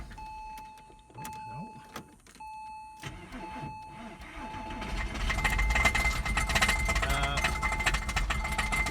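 A 2001 Porsche Boxster cranks over after a faint whine, then catches and runs with a loud, rough, clattering clanking noise that builds toward the end.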